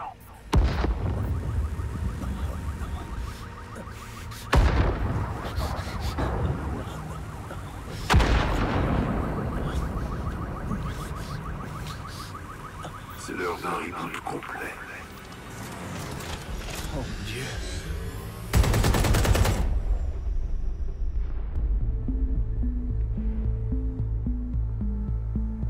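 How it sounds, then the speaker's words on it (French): Explosions in London in Watch Dogs Legion, with several heavy booming blasts spaced apart and loud mechanical rumble and rattling between them, ending in a tonal electronic beeping, mixed with spoken voice. "Une série d'explosions a dévasté 3 sites londoniens."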